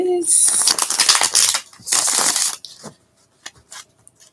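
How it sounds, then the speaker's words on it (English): A tarot card deck is shuffled by hand, giving dense papery riffling bursts for a couple of seconds, followed by a few light, isolated card taps and clicks nearby. "All right, one final shuffle for my Sagittarius."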